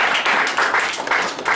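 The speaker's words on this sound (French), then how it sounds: "Acclamation pour le Seigneur." A church congregation applauds, with steady, dense clapping from many hands filling the room for the whole moment.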